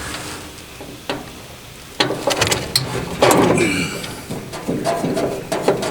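Screws being worked loose from a rain-damaged gas fire pit, a close series of metallic clicks, scrapes and ratcheting taps that grow busier partway through.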